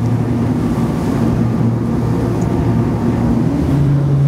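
Brabus Shadow 900 open motorboat running at speed, a loud steady outboard engine drone with a constant low hum, mixed with wind buffeting and rushing water, unbroken and close throughout.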